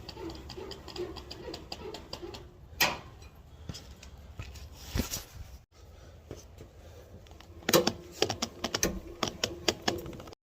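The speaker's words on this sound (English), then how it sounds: "Put a little tool in there and crank it down." A car jack on a Nissan Armada is cranked down with a tool, producing rapid close ratcheting clicks in uneven bursts, with short pauses and a few louder clanks between runs.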